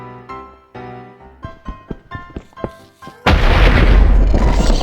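A TNT explosion in the Minecraft video game: several short thumps build up before a loud sustained blast with a rumbling roar that fills the last seconds.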